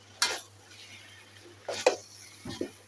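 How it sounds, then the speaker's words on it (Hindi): A spatula stirs rice into chicken and vegetables in a pan, giving three short scraping clatters spaced over a few seconds against a quiet, faintly humming kitchen background. "थोड़े से चावल डालेंगे फिर ये देखिए मिक्स करते हैं"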